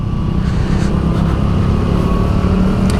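Heavy traffic jam of cars and motorbikes heard from a Yamaha Aerox 155 scooter, a loud, dense, continuous rumble of engines close by.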